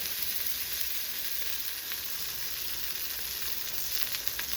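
A Vermont-raised wagyu burger patty sears in a hot pan without oil, a steady, moderately quiet sizzle with occasional small pops and no talking.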